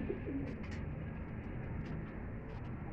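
Soft, repeated coos of domestic pigeons, low and murmuring, over a steady background hum.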